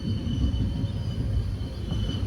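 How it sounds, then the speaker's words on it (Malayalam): Mettupalayam biweekly express train rolling onto the main line, a steady close low rumble of wheels and carriages with a faint high whine above, continuous and without talk. "ഈ നമ്മുടെ ട്രെയിൻ ഇപ്പോൾ ആദ്യമായിട്ടാണ് ഞാൻ ഈ റൂട്ടിൽ കൂടി ഇങ്ങനെ ഇറങ്ങി നമ്മളാ മെയിൻ ലൈനിലൂടെ ജോയിൻ ചെയ്യാൻ പോണത് കേട്ടോ."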